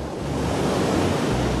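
Dense, roaring surge of crashing waves in a documentary depiction of a devastating tsunami, a loud continuous wash of broadband noise with no breaks or speech.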